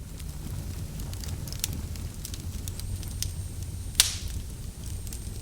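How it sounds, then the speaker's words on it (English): An open fire crackles and pops with sharp, scattered snaps over a low steady roar, one louder crack standing out near the end. "the crackling noise of an open fire"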